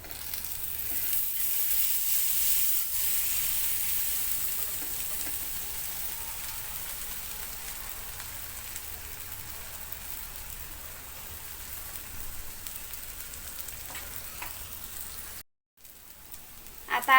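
Beetroot paratha fries in butter on a hot pan with a steady, close sizzle and crackle that holds for most of the stretch, briefly cutting out near the end.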